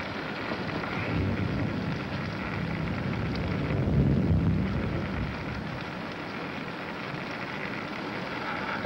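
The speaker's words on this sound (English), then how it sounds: "It's raining" Steady rain falling outside a house at night, a continuous dense hiss that swells slightly around the middle, with no voices over it.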